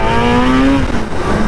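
A Kawasaki ZX-10R sport motorcycle engine revs hard up close, a loud, steady high-pitched roar whose pitch climbs and then dips briefly.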